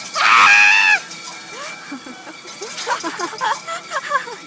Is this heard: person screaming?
yes